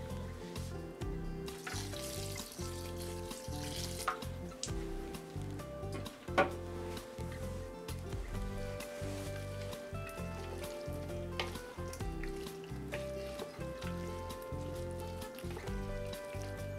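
Pork loin sizzles in a pan on a stovetop, a continuous crackling fry with a few sharper pops, steady and close, under a faint tonal background hum.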